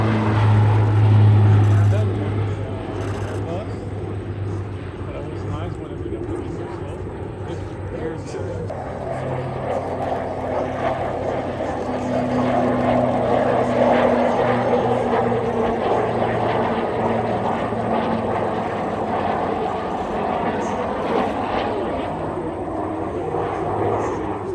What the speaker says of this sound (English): now it's time for the PC-12 formation flight with two Pilatus PC-12s and their daytime flyby display